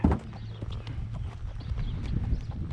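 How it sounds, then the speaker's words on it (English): Saddled horse being ridden at a walk across a farm pasture, with soft, steady clip-clop hoof falls in an even rhythm, close and fairly quiet, plus faint creaks and rustles and no talking. "I'm back on my horse here, and we're out riding around in the pasture at the farm."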